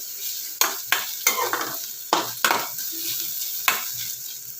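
Fresh grated coconut fries and sizzles in a pan, a steady hiss broken by several sharp scrapes of a spoon stirring it, close up with no talk.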